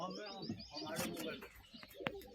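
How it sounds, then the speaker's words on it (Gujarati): Pigeons coo softly in a loft, a low murmur of several birds with a few sharper calls. "હવે હું મારા કબૂતર બતાડું"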